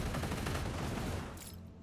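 Turret gunfire in the video game Industries of Titan: a dense, rapid burst of shots rattling continuously, then trailing off and thinning toward the end.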